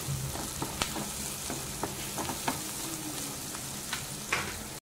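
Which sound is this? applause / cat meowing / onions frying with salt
onions frying with salt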